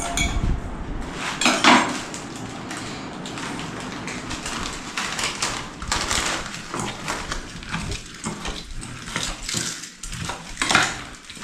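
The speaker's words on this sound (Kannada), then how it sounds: "ಪಾತ್ರೆ ಸೌಂಡು" Metal vessels clang and scrape while churumuri, a spicy puffed-rice snack mixed with Lays chips and Maggi masala, is tossed by hand; close, busy clattering runs throughout with several sharper knocks.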